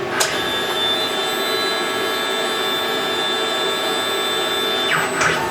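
Tormach 1100MX CNC mill running its tool changer through a tool change: a steady high whine and hum fill the clip, with brief sharp mechanical clunks near the start and the end.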